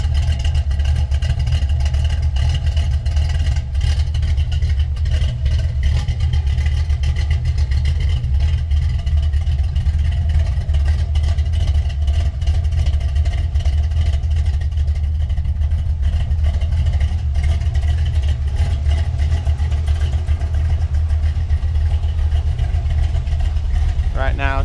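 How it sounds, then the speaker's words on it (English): A 1973 Nova SS engine idles steadily and loudly at about 700 to 800 rpm, a constant low rumble that barely changes throughout, with faint clatter on top. "She's idling at about 700, 800 in there."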